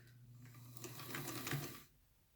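A sewing machine stitches and back stitches a sleeve, a soft close hum of rapid stitching that swells for about a second and a half, then stops.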